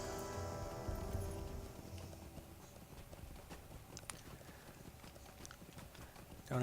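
Steady clip-clop of a horse's hooves while riding in the online game Lord of the Rings Online, a quick even rhythm running throughout at moderate, somewhat quiet level with faint background music.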